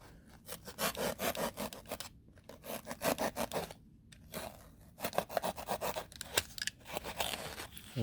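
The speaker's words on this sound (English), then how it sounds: "let's just cut a quick little piece here" A small piece of abrasive cleaning pad for a homemade HO track cleaner car is cut, producing quick rasping snips in rhythmic bursts, close and fairly quiet, with two short pauses between groups of strokes.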